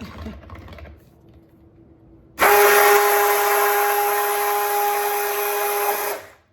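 After a quiet start with faint clatter, a Cuisinart immersion blender blending coconut cream suddenly kicks on with a loud, high whine and runs steadily for about four seconds before cutting off.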